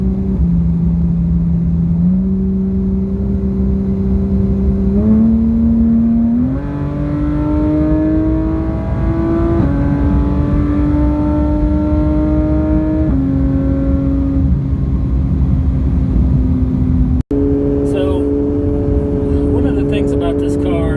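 A GT3 RS engine pulls hard through the gears in traffic, its rising whine climbing in several steps with brief dips between shifts. The sound is close and loud, and a sharp click comes near the end.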